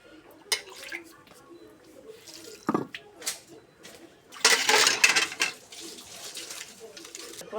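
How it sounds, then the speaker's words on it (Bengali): Water is poured by hand while cooking a village-style puti fish chorchori, giving short splashes and trickles with a louder pouring burst partway through, and a voice talks quietly in between. "পানি দেবো।"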